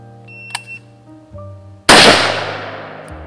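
A single sharp, loud gunshot comes from a Valmet reservist rifle on a shooting range and echoes away, decaying over about a second. Quieter tonal sounds and a brief click come before it.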